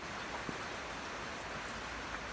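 Steady rain falls over flooded fields during a prolonged downpour, a dense, even hiss that stays constant throughout with no other sounds standing out.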